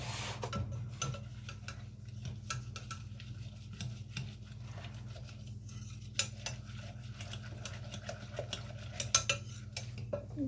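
A metal spoon stirring a thick baked oatmeal mixture in a bowl, soft irregular scrapes and light clinks repeating steadily up close in a quiet kitchen, with no talking.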